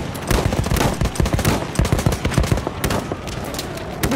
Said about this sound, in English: Machine gun, look tight!